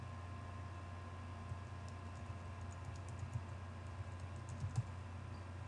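Login details are tapped out on a computer keyboard in a quiet room, soft irregular keystrokes clicking over a low steady hum with no voices.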